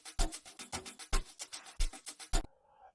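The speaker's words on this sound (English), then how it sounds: "It's like a drum loop." An amapiano drum loop sample with punchy kicks and bright percussive hits in a steady syncopated groove for about two and a half seconds, then cutting off abruptly.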